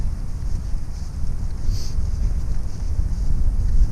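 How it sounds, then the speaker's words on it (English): Strong wind roars and buffets the microphone steadily outdoors in Scotland, a dense low rumble with no voices. "It's so windy."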